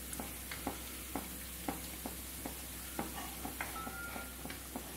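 Bread pakoda snack frying in a pan over a medium-to-high flame: a constant close sizzle punctuated by regular light taps and scrapes from turning, with no speech.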